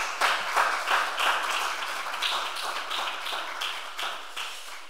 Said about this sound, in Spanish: para la que pido, por favor, pues un fuerte aplauso, como se merece